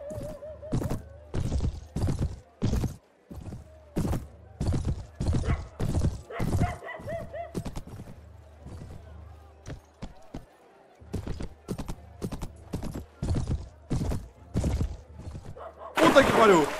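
Horse hooves clip-clopping in the video game Mount & Blade with a 16th-century mod, heard as a steady, loud run of hoof thuds over about seventeen seconds, with a brief whinny and a player talking excitedly throughout.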